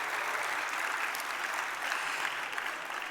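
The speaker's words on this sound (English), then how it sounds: "Let's give a round of applause." Audience at an evening Festival of Lights event in Los Angeles giving a steady round of applause, dense and continuous clapping from a large crowd.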